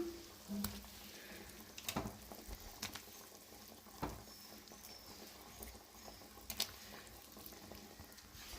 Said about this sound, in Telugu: పులుసు అయితే మనకు మరుగుతూ ఉంది కదా